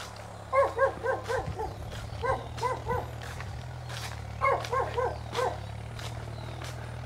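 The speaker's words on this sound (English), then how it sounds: "Oh, dogs." Several dogs in a small town bark in short clustered bursts, moderately distant, over a steady low background hum.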